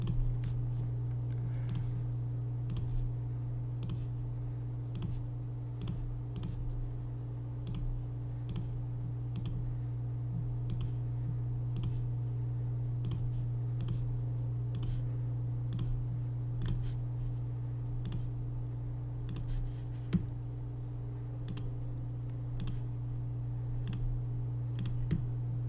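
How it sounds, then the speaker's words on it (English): Computer mouse clicks repeat singly at a steady, slightly irregular pace, about two dozen crisp, close clicks over a constant low electrical hum while tracing points in a polygon selection tool. "All I have to do is click once, and I don't have to hold my mouse down between each of the points that I'm clicking."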